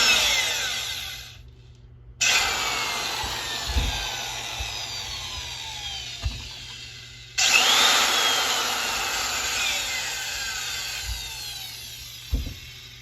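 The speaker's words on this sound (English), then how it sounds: "We got the hole drilled in there." A large power drill with a big chuck bores a hole in a metal furnace duct, whining loudly and close in long sustained bursts broken by a few brief pauses, with occasional clunks as the bit bites.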